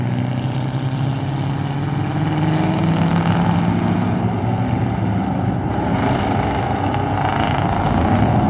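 A silver Ford Mustang launching in a drag race at a street car event, a loud, continuous engine roar with a steady rising drone, heard from close by without a break.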